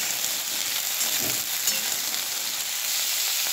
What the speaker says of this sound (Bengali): এবারে ফুলকপি আর আলু ভালো করে ভেজে নেব।